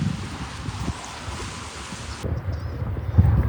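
Strong headwind buffets the microphone while cycling uphill in Turkey, a constant rushing roar and low gusty thumps, louder toward the end.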